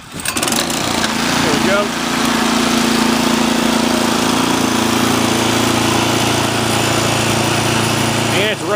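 A Troy-Bilt 2620 snow blower's small engine sputters to life and, off choke, settles into a loud, steady running drone, with a brief spoken remark near the start.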